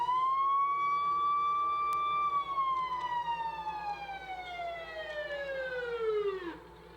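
An antique fire engine siren wails at a 4th of July parade in Burlington, a long sustained tone that slowly falls in pitch and winds down to stop, loud and alone without talk.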